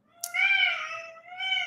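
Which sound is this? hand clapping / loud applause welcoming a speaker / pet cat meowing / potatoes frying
pet cat meowing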